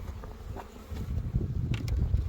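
Honeybees in a hive at an apiary in early spring produce a close, steady, low buzzing hum, with a few faint brief rustles over the drone.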